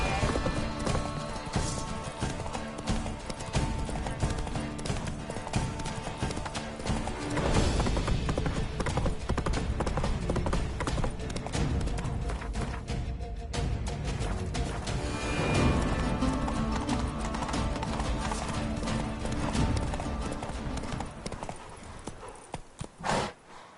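Video-game horse Roach from The Witcher 3 clip-clopping at a steady trot, hooves beating a continuous rhythm over dense background noise and effects, with occasional whinnies, no speech.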